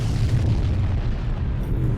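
A heavy booming video game explosion with a deep low-frequency rumble that sustains for a couple of seconds, loud and dense.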